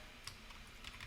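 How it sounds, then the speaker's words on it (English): A short burst of quick, quiet keystrokes on a computer keyboard as a web address is typed, a few light close clicks with no talk. "opening our browser, and on the URL let's type together https"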